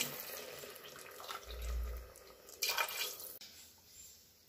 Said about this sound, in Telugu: ఆ కప్పుతోని 1 టెంపో వాటర్ తీసుకోండి